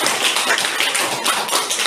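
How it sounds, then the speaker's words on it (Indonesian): Dense, steady applause from a group at the end of a class presentation, a continuous fast patter of many hands clapping together, loud and close, with no talk over it. "Kasih tepuk tangannya ya."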